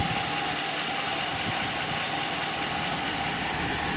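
A 2018 Ram 1500 pickup's Hemi V8, hot after an oil change, idles steadily nearby, a low continuous rumble with a faint mechanical hum and no voices.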